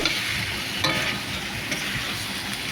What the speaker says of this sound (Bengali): আর ভেজে রাখা পটল পটলগুলো দিয়ে মশলার সঙ্গে নাড়িয়ে নেবো